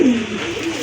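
A large pigeon coos close by, one brief, soft, throaty call standing alone without any talk.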